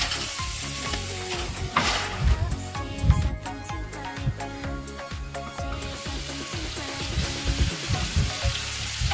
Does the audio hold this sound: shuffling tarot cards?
no